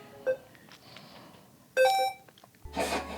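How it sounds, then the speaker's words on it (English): A homemade robot gives a few short electronic beeps and chirps, one brief tone early, then a louder cluster of bright tonal blips, followed by a noisy burst, all fairly close in a quiet room. "Can you make robot that say beep?"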